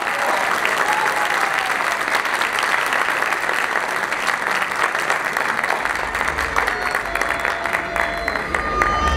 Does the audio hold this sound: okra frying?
no